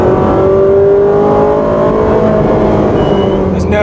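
A Ferrari 458 Speciale engine revs hard and close, a loud high-pitched wail that climbs steadily in pitch as the car accelerates, filling the whole stretch without a break.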